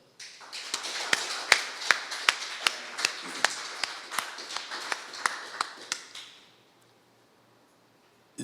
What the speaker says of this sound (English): we all need to put our claps together for a very excellent session